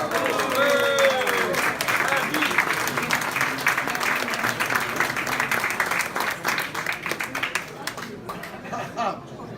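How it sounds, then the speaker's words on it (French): Audience applause at a medal presentation during an administrators' seminar, a sustained, dense burst of clapping from a crowd, loud and steady before thinning toward the end, with some voices mixed in. "Vous applaudissez."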